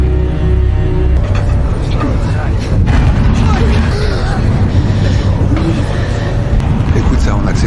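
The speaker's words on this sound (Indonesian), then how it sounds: "C'est le camion qui démarre. Dan truk pun mulai berjalan." A truck's engine rumbles low and heavy as it pulls away, droning continuously under faint background murmur and voices, with a brief shift partway through as it gets moving.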